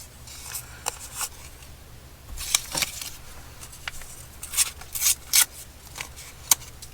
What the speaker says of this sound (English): Just going to snip these edges here.